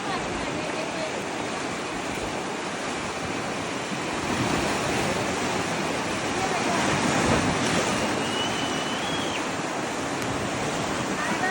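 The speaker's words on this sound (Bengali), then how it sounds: "যাই হোক ঢেউর শব্দ" Ocean waves breaking on a beach, a continuous loud wash of surf with wind rushing across the microphone, steady for the whole stretch and swelling slightly midway.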